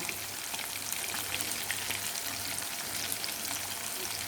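Masala-coated fish pieces fry in hot oil with a steady, bright crackling sizzle, continuous and close, with faint pops scattered through and a low hum underneath.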